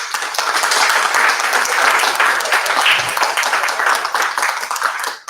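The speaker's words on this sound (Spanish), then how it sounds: "les pido un aplauso de nuevo para" Loud, sustained applause from a small audience for an author at a book presentation in the Mar Adentro bookshop, dense clapping filling the room steadily before fading out at the end.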